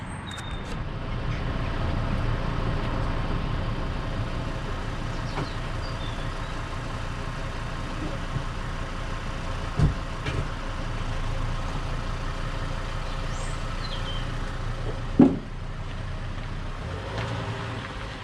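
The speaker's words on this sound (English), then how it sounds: "the car is now sat there happily idling away" A Volvo D5 diesel engine idles steadily up close after a fuel filter change, with a low, even rumble, broken by a couple of brief clicks or knocks.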